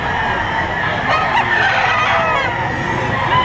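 Rooster at a busy gamefowl sale crowing and clucking, with several birds calling loudly and continuously close by against steady crowd noise.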